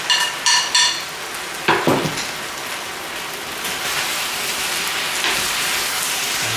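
Pork ribs sizzle in a hot pan, with a few sharp scraping stirs at the start and then a steady, loud frying hiss.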